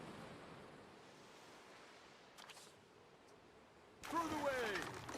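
Ocean waves in Anno 117: Pax Romana wash steadily along a Roman island shore as a soft, continuous surf hiss, swelling into a louder breaking rush near the end.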